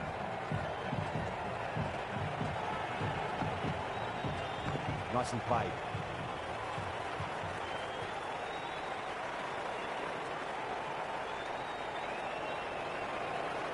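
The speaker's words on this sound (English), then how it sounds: "The crowd is electric right now." A cricket stadium crowd cheers and applauds steadily through a 2025 T20 match between Peshawar Zalmi and Chennai Super Kings, with a broad, continuous roar and a commentator speaking over it.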